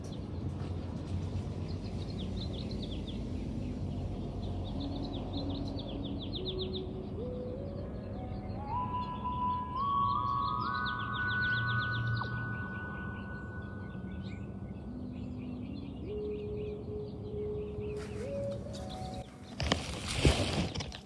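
Slow stepped electronic tones from a PlantWave device connected to a sunset mango plant rise and fall in pitch over a steady rustling background, playing sparse notes, ending with a brief crackle.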